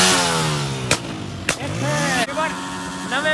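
A motorcycle engine nearby revs in repeated rising and falling bursts, its pitch sweeping up and down between sharp breaks, with voices talking over it.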